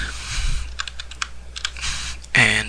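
Fingers typing a project name on a computer keyboard, a quick run of crisp, close key clicks in short bursts, ending with a louder mechanical clatter near the end.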